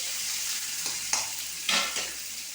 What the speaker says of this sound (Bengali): কুচানো পেঁয়াজ, ওটা দিয়ে দিলাম। এটা একটু ভাজা ভাজা হোক।